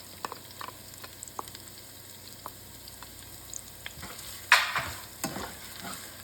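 Onions quietly sizzle in hot oil in a pan with occasional scrapes and clinks of a utensil stirring, and a louder crackle of frying midway.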